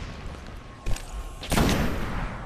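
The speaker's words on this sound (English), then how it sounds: "I can just hear him shooting" Two bursts of enemy gunfire in the video game Destiny, a short crack followed by a louder, longer volley that rings out and slowly fades.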